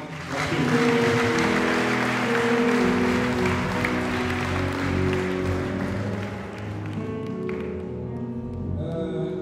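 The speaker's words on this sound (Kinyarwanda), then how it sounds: "mureke dukoma amashyi menshi dushimira" A church congregation applauds together in a dense, steady wash of clapping that fades slightly near the end, with faint musical tones underneath.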